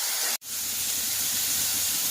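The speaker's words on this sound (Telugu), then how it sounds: "బాగా ఫ్రై అయ్యేదాకా చేసుకోవాలి." Masala paste sizzling and frying in a pan for a green pea masala curry, a steady loud hiss running throughout, broken once by a brief dropout near the start.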